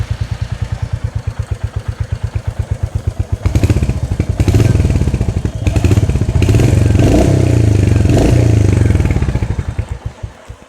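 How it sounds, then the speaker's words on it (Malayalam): Royal Enfield Hunter 350 motorcycle exhaust, close and loud: a steady, even thumping idle for a few seconds, then repeated throttle blips rising into sustained revving before settling back toward idle. "വാഹനത്തിൻ്റെ ആ ഒരു എക്സോസ്റ്റ് ഒന്ന് കളിപ്പിച്ചു തരാം കേട്ടോ"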